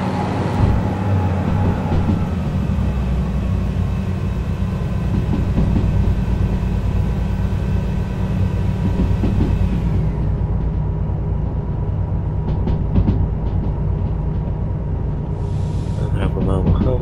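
A freight locomotive in the Derail Valley train simulator runs under load hauling heavy wagons, a steady loud engine rumble and rail noise that lightens near the end, with someone talking over it.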